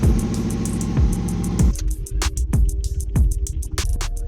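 A 1997 Mazda Miata turbo engine with a 5-speed fires up and keeps running, a dense harmonic rumble at first, then a steadier lumpy idle with sharp clicks and ticks repeating over it, close and loud.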